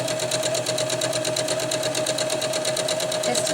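A sewing machine runs steadily throughout, stitching fabric for a zippered hammock bug net with a fast, even mechanical whir and a constant pitched motor tone, close and loud, with no talking.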